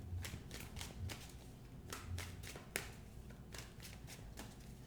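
Tarot cards being shuffled in quick repeated bursts of riffling and tapping, steady and close, with no talking over them.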